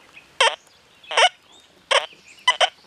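A metal detector sweeping over a nickel gives high-tone falsing signals: four short, warbling electronic beeps separated by near-silent gaps, the last one doubled.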